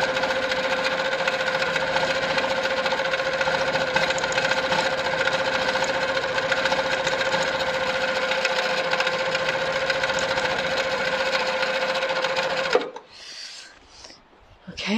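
A sitdown longarm quilting machine sewing with twin thread runs steadily for about thirteen seconds with a loud, even mechanical drone, then stops abruptly and leaves faint rustling.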